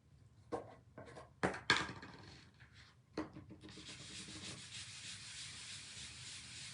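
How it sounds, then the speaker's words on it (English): A wooden billboard being rubbed with wax, heard as a few distinct close scrapes and strokes that settle into a continuous, fairly quiet rubbing hiss. "Probably need to wax over that too."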